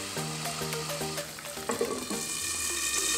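Chicken pieces for a Peruvian hen broth fry in a pan while being stirred constantly, giving a steady close sizzle broken by brief knocks of a utensil against the pan.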